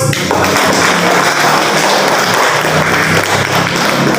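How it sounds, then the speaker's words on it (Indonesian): A classroom full of students claps together after group presentations, a loud, dense, steady applause that carries on without pause. "Baik, kita kasih aplaus"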